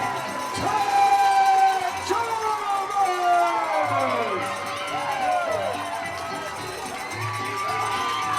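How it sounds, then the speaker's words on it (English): A wrestling arena crowd roars and cheers wildly at a live Ryse Wrestling event, shrill whoops and screams rising and falling throughout, while an announcer's voice briefly cuts through the noise. "This crowd has come completely unglued."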